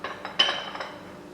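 Wonton filling of prawn mixture scraped from a Thermomix bowl into a separate bowl, heard as a few light clinks and scrapes of utensil against bowl, fairly close, with no talk.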